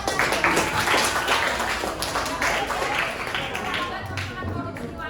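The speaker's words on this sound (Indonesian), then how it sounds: "Ya. Tepuk tangan." An audience of students at an anti-corruption school talk claps together, a dense, even patter of many hands that holds steady and fades slightly toward the end.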